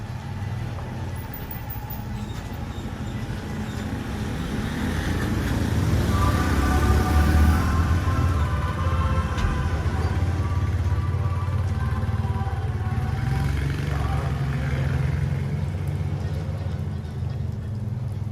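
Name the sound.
street traffic with truck passing by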